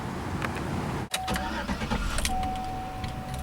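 A 2011 Chevrolet Silverado LT Z71 pickup with a lift kit cranks briefly and catches, then settles into a steady close idle with a faint electronic chime over the engine hum.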